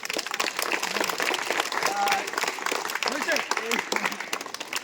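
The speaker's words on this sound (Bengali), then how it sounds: "তা আজকে রাধেশ ভাইয়ের জন্য ছোট্ট করে হাততালি দাও আরেকবার" A school audience at a National Science Day event gives a short burst of clapping, dense and steady throughout, with a voice talking over it.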